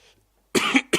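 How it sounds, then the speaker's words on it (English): Two quick coughs, close and clear: a fuller bark followed by a short second one after a brief silence. "That's a cough."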